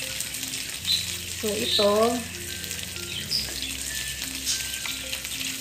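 Pork for adobo browning in a pan, a steady close sizzle and fry crackle continuing throughout while someone talks briefly over it.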